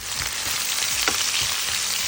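Chopped onion sizzles and crackles steadily in hot oil, a constant frying hiss with small pops throughout.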